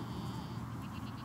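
A goat bleats a few times in short, wavering calls, moderately close, over low background noise with faint voices nearby.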